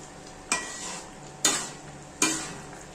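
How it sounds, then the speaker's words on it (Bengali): Spices tipped into hot oil for a homemade mango pickle, three sharp sizzling bursts that each flare and fade, with quiet gaps in between. "মশলাগুলো তার মধ্যে পড়ছে বন্ধুরা।"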